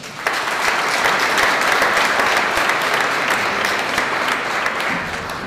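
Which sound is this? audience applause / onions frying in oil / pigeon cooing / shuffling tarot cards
audience applause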